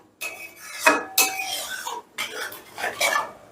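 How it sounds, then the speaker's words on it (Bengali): A spoon scrapes and clinks around a pan on medium heat as yogurt is worked into a spice masala for a rohu fish kalia, coming in short close bursts with brief gaps between strokes. "গ্যাসের আঁচটা মিডিয়ামে রেখে দইটা দিয়েও বেশ ভালো করে মশলাটাকে কষিয়ে নেবো"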